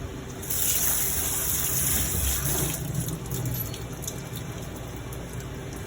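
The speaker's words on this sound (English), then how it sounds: "Use a little bit of water, just rinse off some of the" Tap water gushes steadily over boiled potatoes in a kitchen strainer, a continuous close splashing rush that lasts for several seconds with no talk over it.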